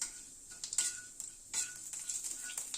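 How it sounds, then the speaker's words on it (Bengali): Fennel seeds and asafoetida crackle and sizzle in hot oil in a pan over a low flame, with soft stirring scrapes and light clinks, close and fairly quiet. "মৌরি আর হিংটা ভালো মতো ক্র্যাক করিয়ে নেব যাতে গন্ধটা খুব ভালোভাবে আসে।"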